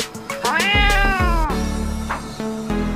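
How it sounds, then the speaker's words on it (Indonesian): A cat in the video game Jurassic World Evolution 2 lets out a loud, drawn-out meow that wavers in pitch. Shorter game sounds and tones follow it, and nobody talks. "Wih, ternyata ini kucing."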